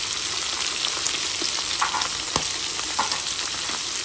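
Garlic and ginger sizzle steadily in a pan with meat as they are stirred, a close, continuous frying hiss broken by a few soft scrapes and clicks of the utensil.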